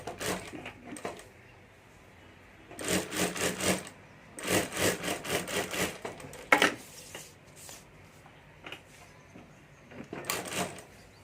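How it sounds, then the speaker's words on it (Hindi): A sewing machine stitches along the top edge of a homemade fabric hand bag, running in several short bursts of rapid whirring with pauses between them, close and fairly loud over a quiet room. "और ऊपर सिलाई कर देता हूँ।"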